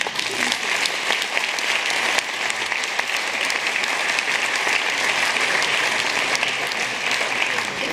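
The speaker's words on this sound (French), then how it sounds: "je vous demande d'ouvrir les bras et surtout d'applaudir toutes ces personnes" An audience at a film festival opening ceremony applauds, a dense, sustained wash of clapping that stays loud and even throughout.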